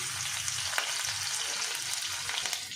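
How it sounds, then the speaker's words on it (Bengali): Four garlic cloves frying in white oil with a dried red chilli and bay leaf in a kadai, a continuous, soft sizzle with faint crackles and no voices. "রসুনটা একটু ভাজা হয়ে যাক"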